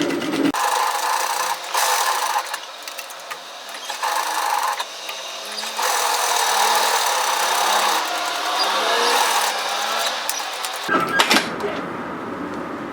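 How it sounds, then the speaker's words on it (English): A sewing machine edge stitches close to the border of a fabric face mask, running in long steady bursts with brief pauses, loud and close with no one talking. "When we edge stitch, we literally want to stitch just in from the edge just to tidy it up."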